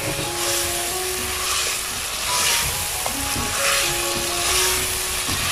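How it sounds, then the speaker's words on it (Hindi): Cumin seeds and green chilies fry in a pan with a steady, continuous sizzle and hiss, broad and even throughout with faint stirring, no talk over it. "तो अच्छे से भून लेंगे और साथ में हरी मिर्च भी शामिल कर देंगे।"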